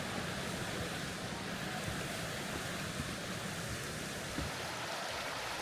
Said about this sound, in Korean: 나무 사이를 흐르는 계곡물이